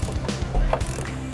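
Bolts on a fuel tank strap are tightened during a fuel pump repair, giving a quick run of close, ratcheting clicks and mechanical clatter over about a second, with no talk.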